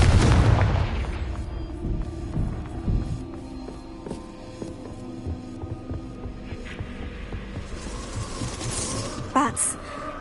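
A Confringo spell explosion in Hogwarts Legacy gives a low boom at the start that fades into a rumbling hum, with scattered softer game effects and a sharp burst near the end.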